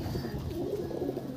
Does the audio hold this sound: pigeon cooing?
yes